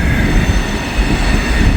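An Amtrak train rolling past on elevated tracks, a loud, steady low rumble of wheels and cars, close by and continuous.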